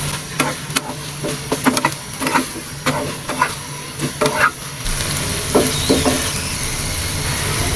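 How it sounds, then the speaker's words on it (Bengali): Taro stolon curry with shrimp being stirred in a pan over a raised flame: a run of sharp spoon scrapes and taps, then a steady broadband sizzle swells up and continues close and fairly loud. "এখন চুলোর আঁচটা একটু বাড়াই দিয়ে নাড়াচাড়া করে নেব।"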